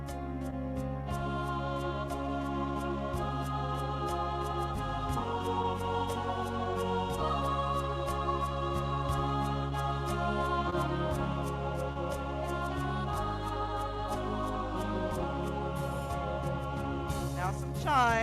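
Choir voice preset on an EY series keyboard, sustained sung-vowel chords shifting every few seconds, steady and fairly loud with no talking.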